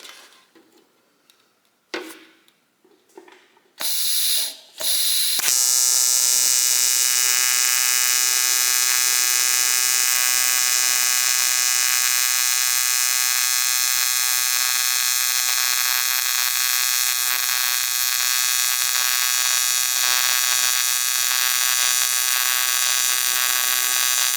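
An ARCCAPTAIN 200P AC/DC TIG welder strikes its arc after a few short clicks and handling noises, then holds a loud, steady buzzing hum with a harsh high hiss for nearly twenty seconds without interruption.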